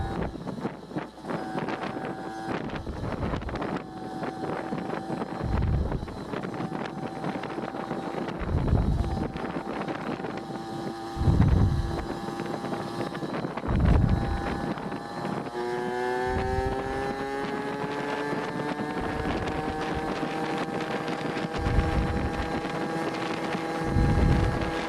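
A Yamaha QT50 moped's small two-stroke engine with a Jemco aftermarket exhaust revs repeatedly in sharp bursts, its raspy exhaust rising in pitch with each blast, close by and loud, with wind buffeting the microphone.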